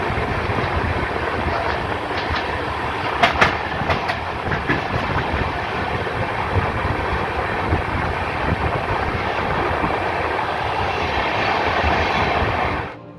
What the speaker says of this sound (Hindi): हमारी ट्रेन एक छोटे से स्टेशन जेठा को क्रॉस कर रही है।